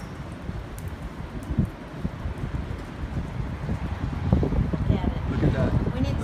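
Strong wind roars outdoors as a tornado comes ashore near buildings in Florida, a steady gusty rumble with buffeting and rustle against the microphone that swells louder toward the end.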